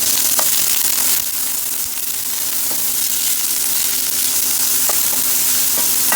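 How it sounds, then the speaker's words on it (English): Garlic and onion sizzle steadily in grapeseed oil in a hot pan, a dense, continuous frying hiss with a few faint clicks and pops throughout. "Hear that sizzle."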